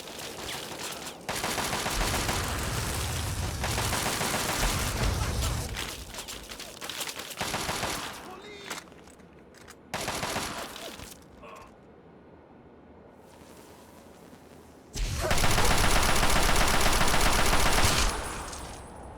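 An automated turret in Fallout 3 opens fire on enemies in bursts of rapid gunfire, with a quieter lull of mechanical noise midway before another loud sustained volley.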